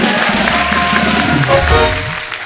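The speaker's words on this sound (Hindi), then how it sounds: "एक बार पिक्चर के लिए जोरदार ताली हो जाए" Audience applause at a Hindi film promotion event, a steady dense wash of clapping from a crowd lasting a couple of seconds, loud and continuous.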